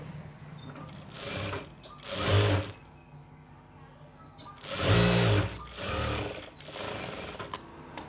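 A sewing machine stitches blouse fabric in two distinct running bursts, each a rapid mechanical whir lasting about a second, separated by quieter handling sounds, close and clear.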